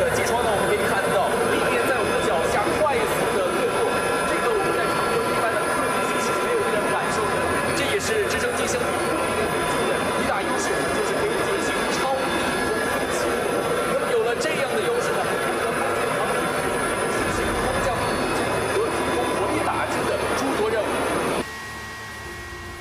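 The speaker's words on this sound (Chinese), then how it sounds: "正是因为直升机独特的飞行原理，才可以使它完成超低空飞行和悬停等固定翼飞机无法完成的飞行动作。" Military helicopter flying at low altitude, about 100 to 200 metres up, heard from inside the cabin as a loud, steady broadband rotor and engine roar that holds for about 21 seconds, then drops suddenly.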